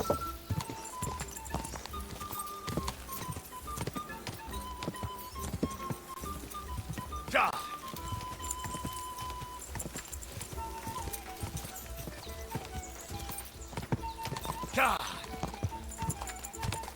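Galloping horse hooves drum steadily in Kingdom Come Deliverance 2, a continuous close clip-clop broken by two sharp whinnies, while a voice talks over the ride.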